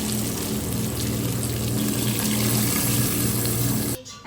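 Water runs from a hose in a continuous, loud, close gush that stops abruptly just before the end.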